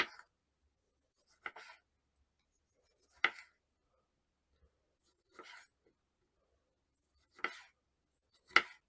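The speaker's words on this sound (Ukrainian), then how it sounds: "Нарізаю кільцями їх і потім буду викладати на кабачки." Six sharp knife cuts land one at a time on a board at irregular intervals, quiet and close, with silence between them, as tomatoes are sliced into rings.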